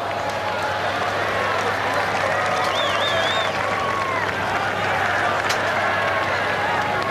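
Steady, broad crowd murmur fills a rugby stadium during a 2010 New Zealand Maori versus New Zealand Barbarians match. It is continuous and moderately loud, with a brief whistle-like tone partway through and no distinct cheering burst.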